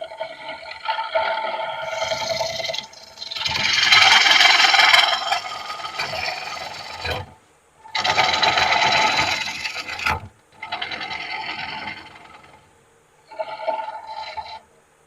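A woodturning gouge cuts across the bottom of a large cedar bowl blank spinning on a lathe, making loud rasping, hissing passes in several bursts separated by brief pauses.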